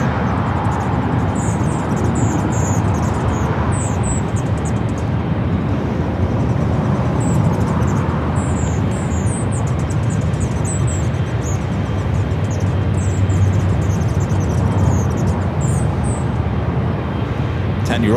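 Korean Air Boeing 747-8 Intercontinental at LAX, a steady broad engine roar that fills the whole stretch, with a faint voice talking underneath.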